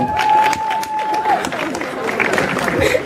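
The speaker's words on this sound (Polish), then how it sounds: "Wielkie brawa!" Audience applause and cheering greet a stage performance act, a steady burst of clapping from a crowd with a whistle-like tone early and voices mixed in.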